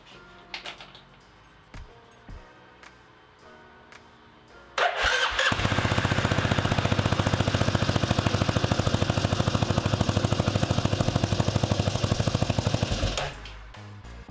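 A CFMoto Z6 EX utility vehicle with a newly replaced cylinder and piston cranks after a few quiet clicks, catches and runs with a loud, steady, close-up rapid engine chatter for about eight seconds before being shut off.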